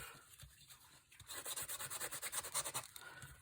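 Quiet, rhythmic rasping strokes of a sanding block scuffing the glossy surface of a playing card, about a dozen quick back-and-forth rubs close to the microphone.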